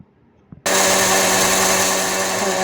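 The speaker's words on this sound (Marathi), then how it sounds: "मिक्सरच्या भांड्यामध्ये बारीक करून घेते मी, थोडंसं पाणी टाकून. बघा, आता मिक्सरला फिरवून घेते." An electric mixer grinder blending soaked poha and rava with a little water into dosa batter: after a brief quiet moment it switches on abruptly, becoming a loud, steady, high whirring roar that continues to the end.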